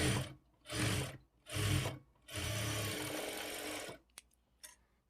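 A sewing machine stitching a folded shape belt on a lined blouse, running in three short bursts then one longer steady run, close and clear, followed by a few light clicks.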